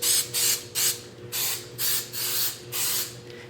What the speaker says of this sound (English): So you're going to take some nonstick spray.